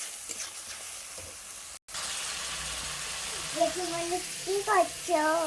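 Spices sizzling in hot oil in a pan for potol masala, a steady soft frying hiss with a few stirring scrapes, then a child's and an adult's voices chime in over the sizzle toward the end.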